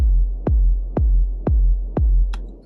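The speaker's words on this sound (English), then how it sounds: "So that's one way of doing a kick drum" A layered kick drum with reverb, programmed in Ableton Live for house and techno, thumps five times at an even tempo, each hit a punchy downward-sweeping boom with a short reverb tail, alone and up front.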